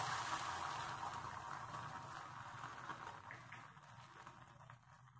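An egg sizzles in a pan of hot white oil, a steady, dense crackling hiss that stays fairly even and close throughout, slowly easing slightly toward the end.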